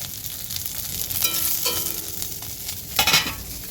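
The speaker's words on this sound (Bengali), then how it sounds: "এখানে মাছ ভেজে নিয়েছি 2 পিস" Fish pieces frying in a pan, a close, continuous sizzle with sharper bursts of crackling and some stirring scrapes in the middle and near the end.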